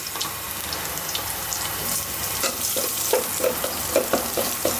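Dry chili, onion, chopped garlic and panch phoron fry in hot oil for dal, giving a continuous close sizzle with stirring clinks and a few crackling pops that build toward the end, with no voices.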